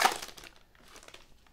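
Foil trading card blaster packs from 2021-22 Panini Hoops, Donruss and Prizm basketball being torn open, a sharp crinkling burst at the start fading into softer rustling and crumpling, close and fairly quiet, with no talking.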